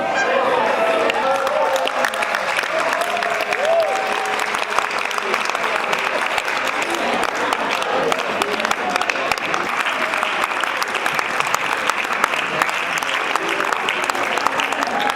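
Audience applause at a training session, a loud sustained round of crowd clapping lasting the whole stretch, with some voices faintly mixed in.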